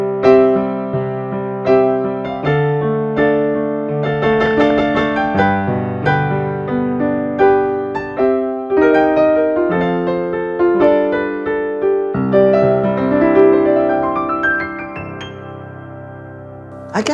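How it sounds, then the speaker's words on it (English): Kawai NV10S hybrid digital piano set to an upright piano sound, playing a flowing passage of chords and runs with frequent attacks, loud and close, alone without talk. "So let's move to, say, an upright piano sound. It sounds like this."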